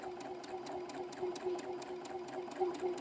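A home sewing machine stitches quilt triangle seams, its fast steady needle chatter and motor hum running evenly throughout at moderate distance, with no talking.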